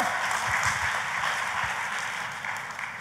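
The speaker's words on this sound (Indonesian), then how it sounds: "Tepuk tangannya yang paling meriah buat Tuhan kita" A church congregation applauds during a sermon, a steady, dense wash of many hands clapping together that holds for about three seconds and eases slightly toward the end.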